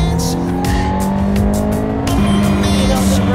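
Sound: race car engine accelerating on a track

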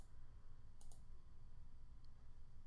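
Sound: computer mouse clicking

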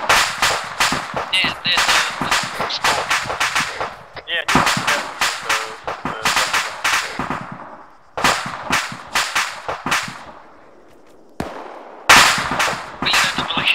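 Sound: gunfire

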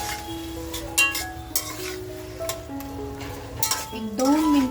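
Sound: prawns sautéed with masala in a pan

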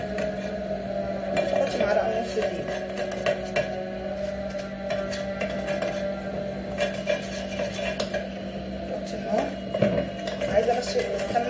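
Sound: stirring ghee and flour in a pan for béchamel

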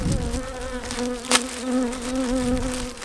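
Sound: honey bees buzzing at hive

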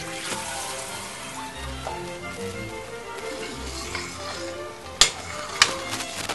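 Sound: rinsing cooked spaghetti with water

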